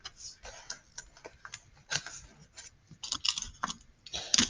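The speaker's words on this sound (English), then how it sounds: "I'm going to tape over here." Tape being pulled, torn and pressed onto the paper pieces of a paper roller coaster, with close, quiet irregular crackles, rubs and short ripping bursts.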